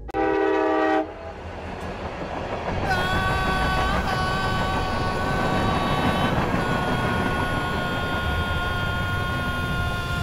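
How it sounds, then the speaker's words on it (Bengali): A passing train, horn sounding loudly and briefly at the start, then a sustained rumble of rail wagons rolling close by with a bright steady squeal of wheels on track. "ট্রেন আসছে।"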